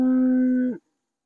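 A single loud, sustained moo from cattle on a farm under a virtual fence system, holding steady for most of a second before cutting off into silence.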